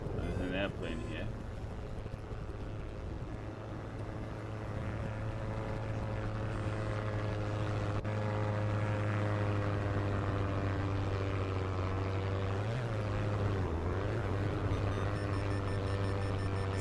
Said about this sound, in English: There's an airplane here.